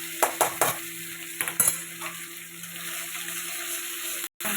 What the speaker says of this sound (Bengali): তেল গরম হয়ে গেছে, এখানে 5 ফোড়ন সম্বার দিলাম, একটা শুকনো লঙ্কা, একটা তেজপাতা আর একটু আদা দিচ্ছি